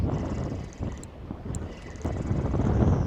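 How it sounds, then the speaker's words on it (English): Steady wind buffets the microphone out on a lake during a windy, sunny midday fishing trip, a broad rumbling roar that swells louder toward the end with no talking. "here comes the wind"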